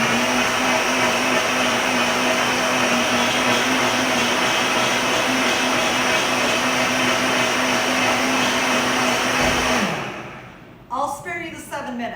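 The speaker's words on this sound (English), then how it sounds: "let me do one last blender dance for you" A blender runs loud and steady, whirring through tortilla soup for about ten seconds before winding down, and a voice briefly speaks just after it stops.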